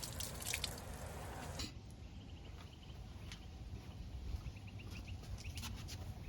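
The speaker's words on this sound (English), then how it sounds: "I put my hose on the shower setting and simulated some rain." Hose on shower setting spraying simulated rain onto a stock tank pool cover, a steady hiss with scattered drips and patters, a louder spray burst at the start.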